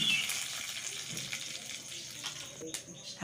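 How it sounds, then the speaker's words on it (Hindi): Fenugreek seeds and curry leaves sizzle in hot tempering oil for kadhi, a continuous close hiss with a voice faintly underneath. "तो हम मेथी ही करी पत्ती एक सब तड़का में छोड़ेंगे"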